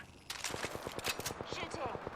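Rapid bursts of video-game gunfire crackle in a steady stuttering rhythm, moderately loud and continuous across the moment, with a voice talking over the shots.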